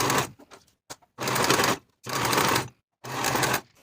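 Sewing machine finishing the raw edges of fabric for lined cigarette pants, running in three steady bursts of about half a second to a second each, separated by short pauses and a few brief stitches, close and clear.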